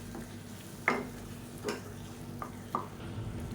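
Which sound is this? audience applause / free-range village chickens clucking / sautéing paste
sautéing paste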